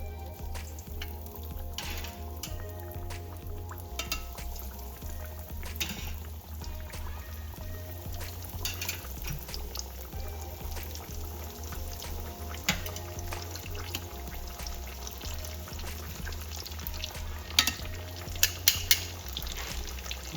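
Breaded green tomato slices fry in hot oil with a steady, dense sizzle and crackle heard up close for the whole stretch, joined by occasional clinks and scrapes of a utensil in the pan.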